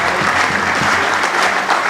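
Audience applause at a Catholic church plenary assembly, a dense steady clapping from a large hall crowd welcoming delegates, continuous and fairly loud for the whole stretch.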